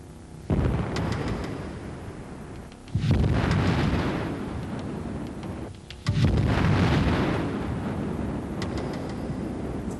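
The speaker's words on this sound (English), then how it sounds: "The phenomenon is known as a BLEVE, a boiling liquid expanding vapor explosion" A tank holding liquid heated far above its boiling point ruptures in a BLEVE during firefighting training, producing repeated deep roaring blasts, each a sudden loud boom trailing into a sustained rumbling roar, three bursts across the stretch.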